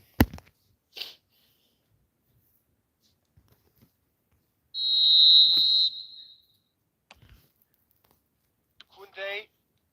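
Referee whistle in an eFootball match, one clear sustained shrill blast of about a second, standing alone amid sparse game sounds and clicks.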